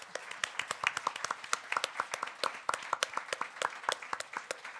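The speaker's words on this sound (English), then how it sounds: "But once again, a big applause to my speakers." Audience applause after a panel discussion on safeguarding children against online sexual abuse, a steady crowd of clapping hands with sharp individual claps running throughout, fairly close and unbroken, with no speech over it.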